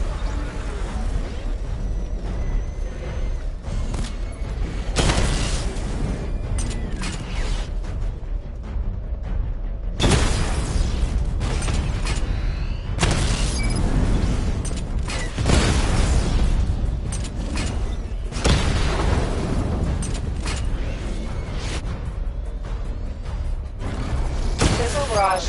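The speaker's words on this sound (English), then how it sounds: "Charge up missile barrage to level 2 and destroy 4 active targets to complete diagnostic test" Booming missile barrage explosions from the Batmobile in Batman: Arkham Knight arrive in several heavy bursts with long rumbling tails, loud and close, under a voice announcing game instructions.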